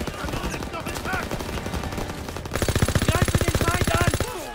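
Rapid machine gun bursts in the Call of Duty: WWII mission on a fortress, dense mixed gunfire early, then a steady loud rattling stream of rounds with shouted voices underneath.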